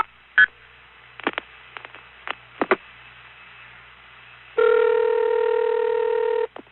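Telephone number 105 dialed on an NX1 long-distance test board: a few short separate tone bursts and clicks, then a steady multi-tone signal holding for about two seconds, all fairly quiet with no talking.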